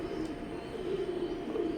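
A pair of imported Teddy breeder pigeons of a KTM line coo in a steady, low rolling drone close by, with the hen due to lay an egg.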